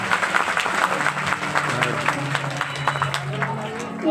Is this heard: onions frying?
no